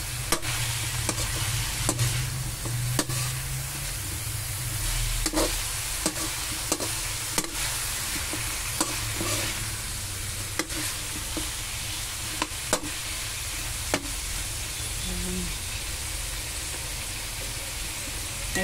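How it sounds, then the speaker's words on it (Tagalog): Eggplant being stirred in a pan while cooking pork kare-kare, a steady close sizzle of frying with repeated scraping and tapping strokes of the spoon against the pan throughout, no voices. "Haluin mo yung mabuti para ito ay malisa ng husto"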